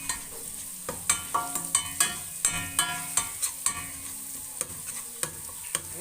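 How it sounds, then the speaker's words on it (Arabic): Onion and a large spoonful of minced garlic frying in a pan for lentil soup, with repeated stirring clinks and scrapes of a spoon over a steady soft sizzle. "هنزل عليها بمعلقه الثوم المفروم، معلقه ثوم مفروم كبيره تاخد لون مع البصله"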